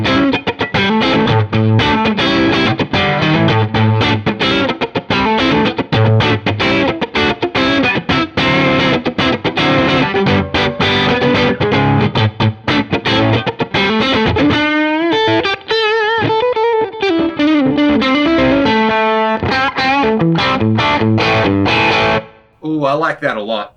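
Electric guitar runs through the Tube Screamer side of an Electric Dragon overdrive pedal into an amp, giving a steady stream of driven, mildly distorted chords and single-note lines, loud and close throughout.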